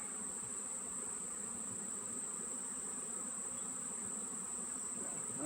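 A constant, close buzz of bees around a hive hums steadily throughout, dense and unbroken, with no voices.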